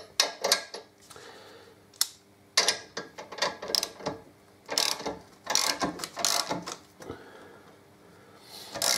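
Socket wrench ratcheting on the gearbox of a Harley-Davidson Electra Glide during swingarm bush work, heard as close, loud bursts of metallic clicking in irregular runs with short pauses, no talk.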